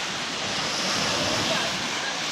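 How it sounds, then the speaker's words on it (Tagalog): Rough sea waves surge and wash in a steady, loud roar close by, with wind mixed into the constant churning surf. "magalaw po ang alon dito sa amin."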